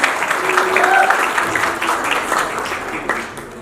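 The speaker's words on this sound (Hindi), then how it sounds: "जोरदार तालियां हो जाए" Audience at a film poster and face reveal event breaks into strong applause, dense clapping with some voices mixed in, slowly tapering off.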